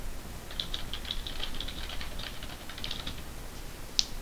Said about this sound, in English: I can hear you typing.